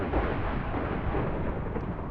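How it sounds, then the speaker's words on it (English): Minecraft thunder rolls as a dense, continuous low rumble that stays loud and even throughout, with no voices over it. "And it's still thundering."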